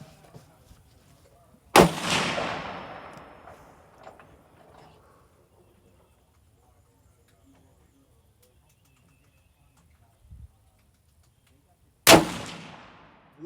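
Two sharp, loud Bergara B14HMR rifle shots ring out during load testing, each followed by a short decaying echo, separated by about ten seconds of near silence with faint background sounds.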